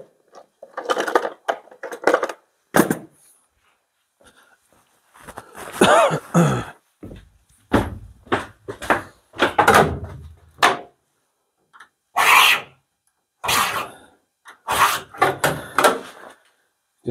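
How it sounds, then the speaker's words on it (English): A scribe drags across the metal panel of a MAN TGE / VW Crafter van during a panel-to-glass conversion, producing repeated short, scratchy strokes in irregular bursts separated by silence. "Just scribe it right into the metal."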